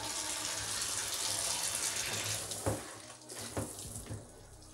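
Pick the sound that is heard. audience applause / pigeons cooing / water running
water running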